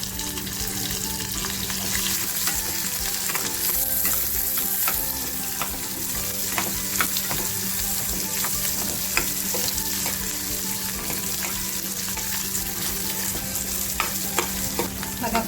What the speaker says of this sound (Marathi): तेल आपलं छान तापल्यानंतर आहे ना ज्या लाल मिरच्या घेतल्या सुक्यावाल्या त्या टाकून घेते त्याच्याच बरोबर आहे ना कांदा सुद्धा टाकते बघा